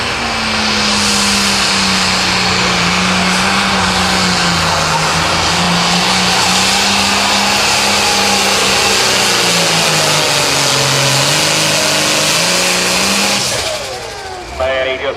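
An International 966 tractor in the 8500 Limited Pro Stock class at a tractor pull in Mound City, Missouri roars loudly and steadily, its engine pitch shifting throughout a long pull before easing near the end, with an announcer talking over it.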